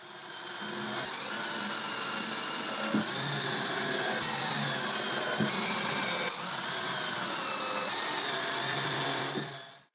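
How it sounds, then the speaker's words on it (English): A power drill boring guide holes into wood while building a display cabinet, running as a steady, loud whirring drone for most of the span, with a few brief pauses and knocks as the bit bites. "I drill guide holes."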